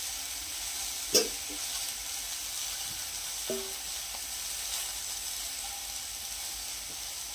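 Water spinach frying in a pan with salt: a steady, close sizzle that continues throughout, with a couple of brief utensil clinks.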